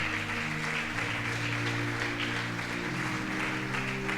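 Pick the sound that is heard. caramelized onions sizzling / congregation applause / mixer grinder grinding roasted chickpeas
congregation applause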